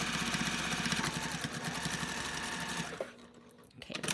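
Sewing machine stitching fleece for a snowman hat, a steady fast mechanical whir running loud for about three seconds before stopping, then a brief restart near the end.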